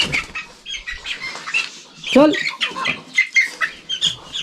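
Village chickens in a poultry shed flap their wings and squawk in short bursts, one loud close squawk in the middle, while a person calls out briefly.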